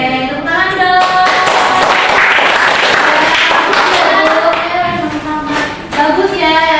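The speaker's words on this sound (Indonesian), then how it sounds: "Oke, tepuk tangan dong." Classroom applause from students, a dense patter of clapping hands that fills the room throughout, with voices calling out and chattering over it.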